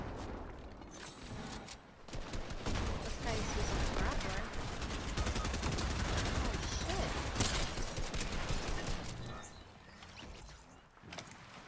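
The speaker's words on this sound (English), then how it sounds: "Oh, someone just sniped me." Gunfire erupts in a Fortnite match, a dense run of rapid shots and bursts lasting most of the stretch, loud and layered with game effects before tapering off near the end.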